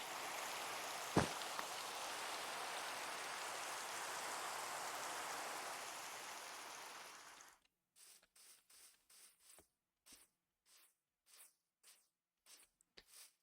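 Rain falls in the Minecraft video game, a steady soft hiss for several seconds that cuts off, followed by a series of brief evenly spaced bursts of rain noise.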